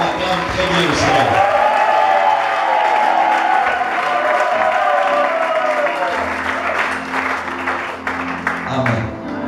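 Church congregation applauding and cheering together, a loud sustained wash of clapping and crowd voices lasting most of ten seconds, with a voice speaking over it.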